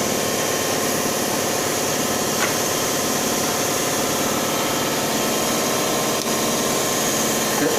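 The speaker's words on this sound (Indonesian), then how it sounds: "motor pun akan menyala" The electric motor of an automatic gate in an industrial automation trainer runs with a steady mid-pitched hum and vibration, continuous and fairly loud, with no talking.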